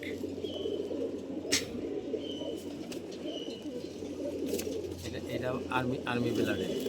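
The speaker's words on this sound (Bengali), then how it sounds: "এটাও আর্মি ব্লাডের একটি কবুতর" An army blood pigeon gives soft, repeated coos over a low background hum, with faint voices and scattered bird chirps mixed in.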